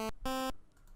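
A 12.5% pulse wave from the Magical8bitplug2 chiptune synth plugin, heard as two buzzy, thin 8-bit tones: a short note followed by a longer sustained one, each cutting off cleanly before a quiet tail.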